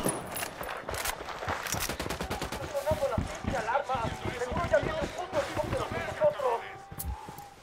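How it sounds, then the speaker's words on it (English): Video game mission gunfire: repeated bursts of automatic shots and scattered single cracks, loud and close, running under shouted talk and combat chatter. "Opening fire."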